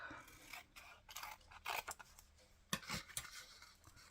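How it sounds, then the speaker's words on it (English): Scissors snipping through paper for a collage, a series of short crisp cuts and rustles at close range, fairly quiet, with no talking. "Let's cut that off"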